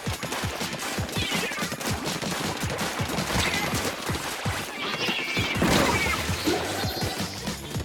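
Missiles fired in Splatoon 2, a dense, continuous barrage of rapid crashing impacts and bursts, loud and busy throughout with no clear pauses.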